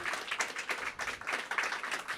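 Audience applause welcoming a performer at an open mic event, a steady, fairly distant patter of many hands clapping with no voices over it.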